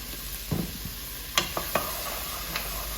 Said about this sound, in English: just kind of saute it for about 2 to 3 minutes until you get a little bit of transparency from the celery